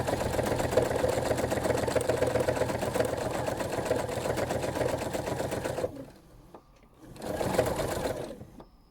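A sewing machine stitches embroidery on a spring quilt block, running in a rapid, steady mechanical chatter for about six seconds, pausing briefly, then starting again in a shorter burst.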